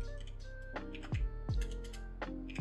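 Several quick keystrokes on a computer keyboard come in short irregular bursts while naming squads in Arma Reforger, close and fairly faint, with no talking.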